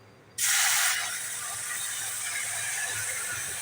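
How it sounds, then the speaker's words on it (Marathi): Hot milk is poured slowly into rice roasted in a hot pan. It sets off a sudden loud sizzle that settles into a steady bubbling hiss, close and alone. "आणि ह्यात मी हे दूध गरम करून घेतलेलं आहे ते हळूहळू घालायचं आपण आता"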